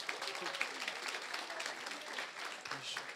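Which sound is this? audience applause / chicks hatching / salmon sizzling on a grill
audience applause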